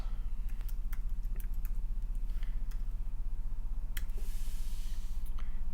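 Keys clatter on a computer keyboard during a FreeBSD desktop setup on an Intel NUC, with irregular, close clicks and taps over a constant low hum and no speech.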